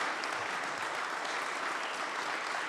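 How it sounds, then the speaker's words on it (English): Steady, dense applause from an audience at a management school event, a continuous wash of many hands clapping with no pauses, fairly loud and close throughout. "A round of applause for these guys for helping us out."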